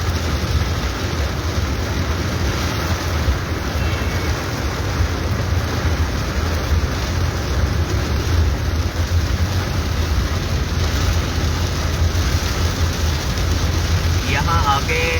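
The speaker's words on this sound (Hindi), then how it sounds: "यहाँ मॉडल टाउन में शायद इतनी तेज़ बारिश नहीं है जो यहाँ पर GT रोड पे इतनी तेज़" Heavy monsoon rain falls on GT Road in Gujranwala as a dense, continuous wash of sound, mixed with low traffic rumble, and it stays loud and unbroken from start to end.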